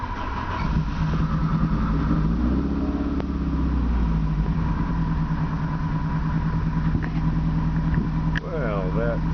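A freshly rebuilt high-compression 2.5 liter four-cylinder in an Opel GT fires up and settles into a steady, fairly loud idle with a slight lope, heard close and alone throughout.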